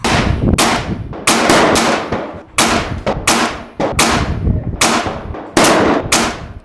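A PA30 airgun fires AEA precision slugs in a rapid string of about ten loud, close shots, each a sharp crack followed by a fading ring, spaced irregularly with short gaps.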